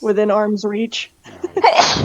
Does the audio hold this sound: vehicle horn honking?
no